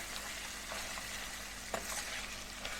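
Tomato masala with salt cooking in a pan for veg pulao, giving a steady low sizzle and frying hiss with occasional soft stirring knocks, close and alone without talk.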